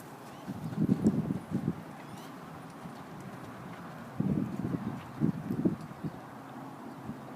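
A horse cantering in counter canter in a riding arena, its hoofbeats coming in rhythmic bursts of muffled clip-clop, moderately close, with quiet pauses and faint wind between the strides.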